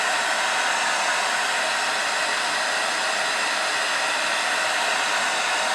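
A hair dryer blows hot air over a tape-in hair weft, a steady loud whoosh held unbroken for several seconds with no voices.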